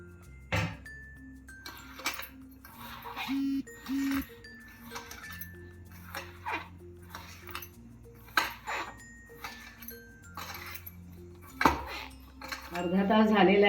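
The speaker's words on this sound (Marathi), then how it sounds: "आता मी त्याच्यात पिठी साखर मिसळते." A spoon scrapes and clinks against a bowl while powdered sugar is stirred into mawa, giving irregular close taps and rattles with quiet pauses between strokes.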